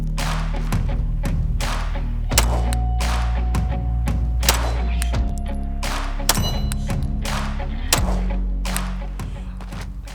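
Ruger RXM pistol, a Glock-style 9mm, fired in a rapid string of sharp, loud outdoor shots, about a dozen reports in quick succession at close range.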